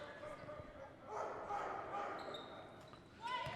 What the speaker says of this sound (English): There's that emotional support dog again, back in the crowd.